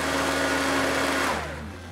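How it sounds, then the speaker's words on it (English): A countertop blender whirs at a steady high pitch as it purees dates with fruit puree, chia and coconut oil for muffin batter, then spins down toward the end. "we are going to use a blender for the wet ingredients, because we need to blend up these dates with the puree and the chia and the coconut oil"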